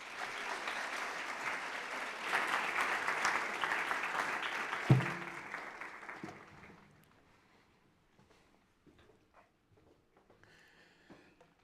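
Audience applause welcoming guest speaker Dr. Frederick Bauerschmidt at a talk, loud sustained clapping from a crowd for about six seconds before fading into quiet room noise.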